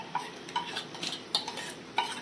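A spoon scrapes and clinks against a pan while browned onions are stirred with 250 grams of ginger garlic paste, giving a few separate, fairly faint strokes with no voices.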